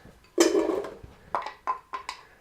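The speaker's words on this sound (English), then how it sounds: "And in go the onions." Onions tipped into a big pot of oil over medium heat for a West African vegetarian groundnut stew: a broad rustling splash up close, followed by several short, sharp clinks of a utensil against the pot.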